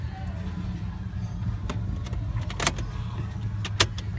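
A car being jump-started from a booster battery, its engine giving a steady low rumble with scattered clicks and knocks over about four seconds, while people talk nearby.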